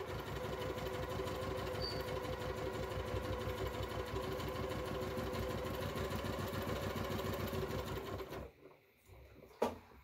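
Sewing machine running steadily at speed while stitching fabric for a reusable freezer bag, a dense continuous mechanical whir that stops abruptly near the end, leaving a quiet pause and a single faint knock.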